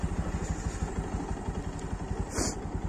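A motorcycle engine idles and putters steadily at close range while the bike is parked at a crowded bike stand at a steel plant, with a brief higher whine partway through.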